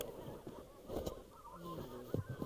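Several geese honk at a distance during a spring goose hunt in Belarus, irregular calls rising over a quiet outdoor background with a few soft thumps.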